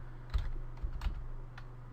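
Keys clack on a computer keyboard in a few light, quick taps, faint against a steady low hum in a quiet room.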